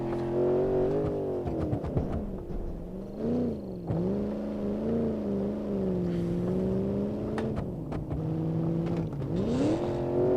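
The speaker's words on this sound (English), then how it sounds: "Pop the clutch. Nice amount of wheel spin. And we are off to the races." A Civetta Bolide car in the BeamNG.drive video game launches with wheelspin and accelerates. The engine tone climbs steadily with brief dips at gear changes, loud and close throughout, with no talking.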